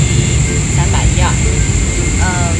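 Steady broadband roar inside a Boeing 777-300ER airliner cabin in flight, a constant loud engine and airflow hum, with brief snatches of voices over it.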